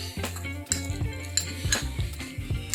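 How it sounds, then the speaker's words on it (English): Utensils clink and scrape in a bowl as a thyme and garlic jerk seasoning mixture is stirred, with repeated sharp taps over a low steady hum, close by. "Now for the seasoning, I'm gonna mix it out."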